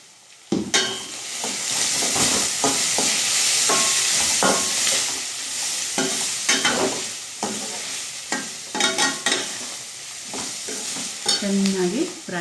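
Frying in a pan for potato palya, a loud close sizzle under busy stirring, with a spatula repeatedly scraping and knocking against the pan in irregular bursts and no talking.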